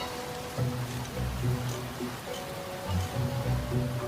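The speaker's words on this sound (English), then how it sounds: "the wind blew and the rains pounded down" A wind and pounding rain sound effect gives a steady hiss of heavy rainfall with gusty swells, layered under soft tonal music notes.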